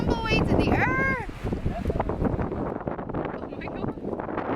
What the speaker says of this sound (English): It's getting windy. Yeah, it's so windy.